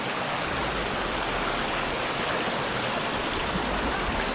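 Water rushes steadily along a previously dry stream bed, a loud, continuous broadband wash that holds even throughout with no voices over it.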